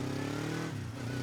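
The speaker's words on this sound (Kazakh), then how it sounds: "Мотоцикл." Motorcycle engine humming steadily at close range, with a slight drop in pitch partway through the brief sound.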